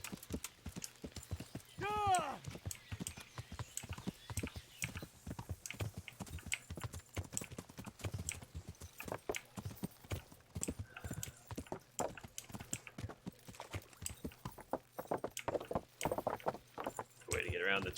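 Rapid horse hoof clip-clops in the video game Kingdom Come: Deliverance patter in an irregular rhythm throughout, with a brief whinny early on and a low steady hum underneath; no one speaks.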